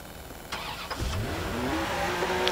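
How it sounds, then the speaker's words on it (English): A Lamborghini engine in the video game Watch Dogs, reported as broken, starts and revs up in a rising, steady drone that builds and holds loud over game background noise, with no talk. "I have a broken ass Lamborghini."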